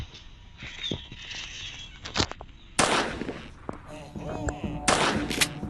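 Double-barrel shotgun blasts in a video game, a couple of loud broadband shots cutting through softer game ambience and scattered clicks, with reloading-like metallic sounds between.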